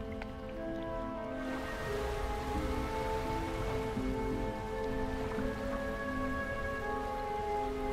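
Steady rain in the fishing video game Dredge, a continuous even patter under a layer of tonal game music, with no talking.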